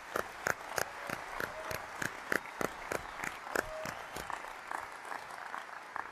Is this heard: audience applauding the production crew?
yes